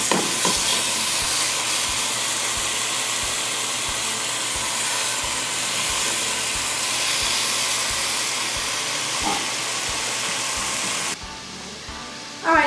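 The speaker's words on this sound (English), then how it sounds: "I'm cooking up 5 pieces of bacon, and I'm going to cook them until they're very crisp" Five strips of bacon frying in a pan until crisp, with a loud, steady, close sizzle and hiss and faint crackling throughout that drops off briefly near the end.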